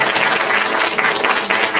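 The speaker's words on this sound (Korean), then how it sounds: "우리 사모님 다시 일어나실 때 우리 박수를 한번 쳐주시고요" An indoor audience at a literary conversation event claps loudly and continuously in a dense, close burst of applause.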